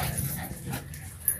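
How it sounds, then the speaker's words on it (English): A dog pants and whimpers excitedly at close range, with quick breathy bursts and small whines running through the short stretch, a sharp yip near the end. "Now Oreo's looking that way and she's barking up."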